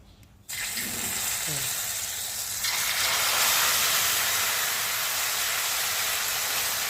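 Egg with cha-om (acacia leaves) dropped into hot oil. A sudden loud sizzle kicks in after a short quiet start, swells further a few seconds later, then holds as a steady crackling hiss. Brief voices are heard near the start.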